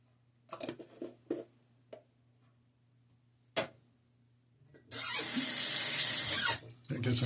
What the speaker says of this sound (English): That gets some of the soap off my fingers.